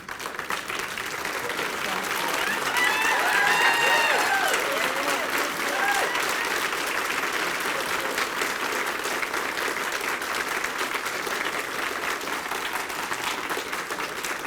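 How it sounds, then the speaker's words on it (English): A standing ovation at a Good Scouting Award breakfast for the 2019 Good Scout, a dense, steady wash of applause from a large room that swells early and carries on at length. "one last standing applause for our 2019 Good Scout, Miss Terry Smack"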